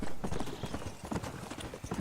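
Horse hooves clip-clop at a brisk, even pace in Red Dead Redemption, close and fairly loud, with no voices over the rhythmic thuds.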